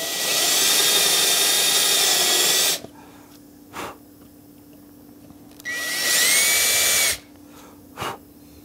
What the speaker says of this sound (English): This is a 5/16 bit to drill for the narrower part of the ferrule.